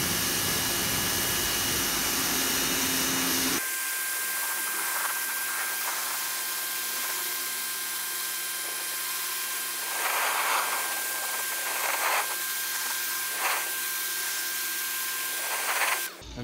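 Harbor Freight power washer spraying a wooden table at a high setting: a steady, loud broadband hiss with a constant whine, starting abruptly after a few seconds and running continuously with slight surges.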